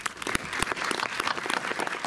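Brief burst of audience applause for Pierre Scheller at an evening event, a dense patter of many hands clapping close by, lasting about two seconds.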